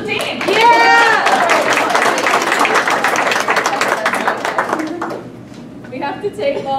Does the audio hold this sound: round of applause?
yes